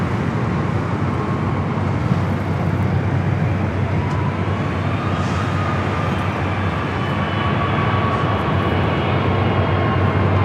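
Boeing 767-300ER airliner bound for JFK gives a steady, dense jet roar with a low rumble underneath, continuous and loud across the whole stretch at a large airport, with no talk over it.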